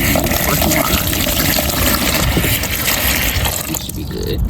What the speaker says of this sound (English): take my seedlings out of my container and pour some water in